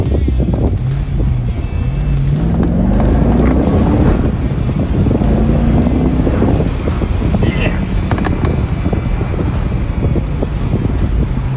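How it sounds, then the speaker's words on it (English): A 1997 Corvette on a test drive, its engine droning and rising through gears beneath heavy rushing wind noise, loud and continuous from inside the car, with occasional talk from the driver. "let's see if this makes any difference to the sound of our car"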